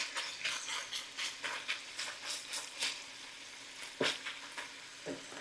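Bacon sautéing in a pan, a continuous close sizzle with pulsing crackles and a couple of sharper utensil knocks toward the end.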